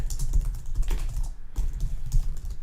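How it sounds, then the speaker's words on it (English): Typing on a computer keyboard while writing a Java print statement: quick, close clattering keystrokes in an uneven rhythm with a brief pause in the middle, loud and with no voice over it. "If we were to type something here"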